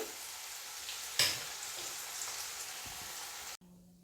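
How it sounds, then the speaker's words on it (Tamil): Moringa drumstick pods fry in hot oil for a Sri Lankan spicy drumstick curry, giving a steady, close sizzle with a brief louder crackle partway through before it cuts off abruptly. "இப்படியே நான் எல்லா முருங்கைக்காயும் பொறிச்சு கொள்ள போகிறேன்"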